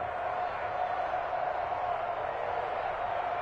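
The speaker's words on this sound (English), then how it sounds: "the crowd getting into it as we come up on a big 3rd down" A stadium crowd roars steadily during a video game American football match ahead of a big third down, a dense continuous wash of cheering with no breaks.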